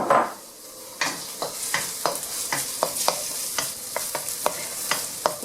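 Chopped garlic and onion fry for fried rice, with a steady close sizzle broken by a series of sharp spatula scrapes and taps in an irregular stirring rhythm.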